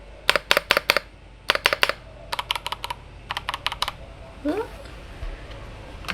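Keystrokes on a Darkflash GD68 mechanical keyboard come in quick clustered bursts of sharp clicks with short pauses between, close and fairly loud, with a brief bit of background voice near the end.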